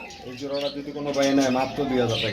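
Black Sirazi pigeons, a male and female pair, coo in soft rising and falling calls nearby, with a voice talking over them.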